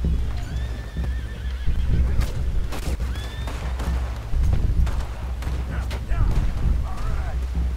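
Horse whinnies in Red Dead Redemption 2 rise and fall over clopping hooves and a busy game background rumble, with a few sharp bangs scattered through.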